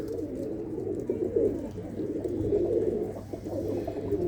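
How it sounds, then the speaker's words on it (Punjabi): Chap breed pigeons coo steadily at close range, a low rolling murmur of overlapping birds with no voices over it. "ਆਹ ਕਬੂਤਰਾਂ ਦੀ ਖੜਾਨ ਦੇਖੋ ਜਿਹੜੇ ਖੜੇ ਆ ਸਾਹਮਣੇ"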